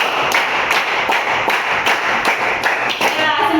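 Schoolchildren in a classroom clapping together in a counted rhythmic pattern, a series of loud, evenly spaced group claps close by, with some children's voices mixed in.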